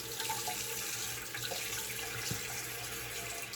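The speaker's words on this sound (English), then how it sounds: "And I'll add just a few drops of water" A bathroom tap runs during a wet shave while a lather is built, giving a steady, fairly faint hiss of flowing water with no talking.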